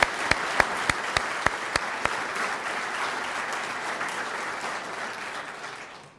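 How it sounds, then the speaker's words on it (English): Applause at a military change of command ceremony, following the national anthem performance: a few sharp, separate claps ring out first, then swell into a full, even crowd ovation that fades away at the close. "so let's give them all a round of applause"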